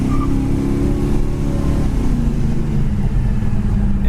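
A maroon 1969 Pontiac GTO rolls along with a deep, steady engine rumble that stays loud and close throughout, a smooth low drone with no talking.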